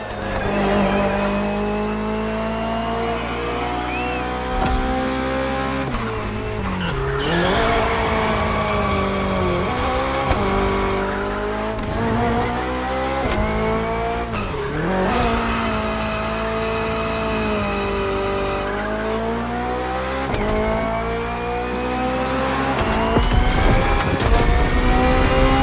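Hybrid V8 race car in The Crew Motorfest video game, engine revving loud and close with rising and falling pitch through repeated gear shifts and throttle changes, no talk.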